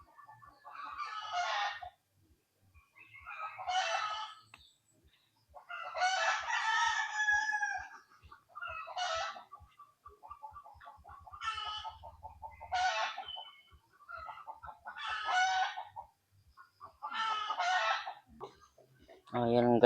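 Rooster crowing and hens clucking from backyard poultry kept on a farm in Marinduque, Philippines: repeated crowing calls rise and fall in bursts about every two seconds, fairly close, with quiet gaps between.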